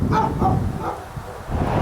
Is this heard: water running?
no